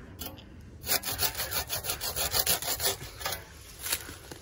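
A bow saw cuts a notch into a standing tree, its blade rasping through the wood in steady back-and-forth strokes, close and fairly loud, with a brief pause partway through the cutting.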